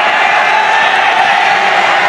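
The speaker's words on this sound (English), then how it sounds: "As the crowd goes wild." An offline esports playoff crowd at an MPL Indonesia Season 13 match between BTR and EVOS Glory roars and cheers loudly and steadily, a dense, sustained wall of noise with whoops mixed in.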